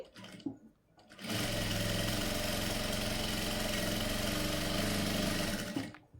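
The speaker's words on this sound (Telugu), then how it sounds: "ఇప్పుడు కింద సమానంగా చూసేసుకుంటూ కింద ఒక కుట్టు అయితే వేసేస్తున్నాను" Sewing machine stitching darts on the front part of a blouse, a single loud continuous run of several seconds, close up, starting and stopping abruptly.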